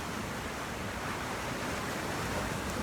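Wind roars steadily across a cliffside on Bowen Island, blending with the broad wash of waves below into a dense, continuous hiss with no pauses or voices.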